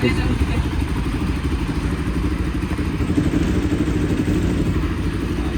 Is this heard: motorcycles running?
yes